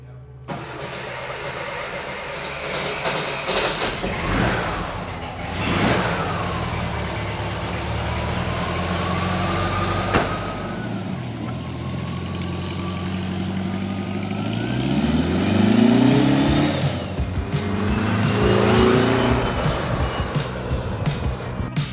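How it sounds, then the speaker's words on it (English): A car fitted with a swapped engine cranks and fires, then idles and revs in several rising surges, close and loud, with people talking over parts of it. "spending most of the day trying to get this engine to fit in the car, it came time to start it"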